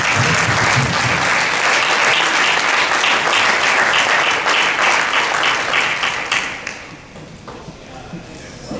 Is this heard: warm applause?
yes